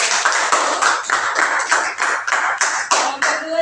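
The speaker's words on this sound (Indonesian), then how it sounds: "Oke, tepuk tangan dulu." A classroom group claps together in a brief burst of applause, a dozen or so even, rhythmic claps heard up close.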